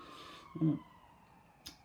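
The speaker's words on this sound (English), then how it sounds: "Sorry, there's a siren. So ignore the sirens going off." A faint, distant siren holds a steady wailing tone, with a couple of brief nearby clicks and knocks.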